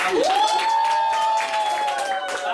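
Audience applause and cheering for the winner of a lip sync battle on a celebrity chat show, dense clapping under a sustained musical tone.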